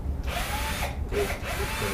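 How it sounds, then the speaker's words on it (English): A power drill whirs loudly and continuously while drilling a hole during a gooseneck hitch install on a 2019 Chevy Duramax, its motor pitch dipping briefly twice as the bit bites into the material. "Yeah, I'll drill the hole."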